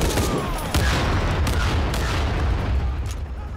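Rapid gunfire in the Shadow of the Tomb Raider video game, a loud continuous fusillade of shots with booming low impacts, no speech over it.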